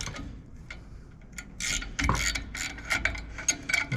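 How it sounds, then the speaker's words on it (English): A wrench loosens a bracket in the engine bay of a Squarebody truck, giving quiet ratcheting clicks and metallic mechanism noises in short bursts that grow louder partway through, heard close up. "I'm going to loosen this bracket up just a little bit"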